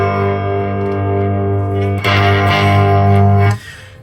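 Electric guitar played through a 1975 Electro-Harmonix Linear Power Booster 2 LPB into a small Fender Princeton amp, a loud sustained chord, then a harder strum midway that rings out before cutting off, no talking.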